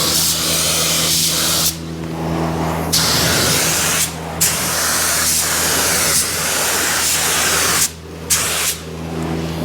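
Satin black spray paint hisses steadily from a spray gun onto a car part, loud and close, with several brief pauses between bursts.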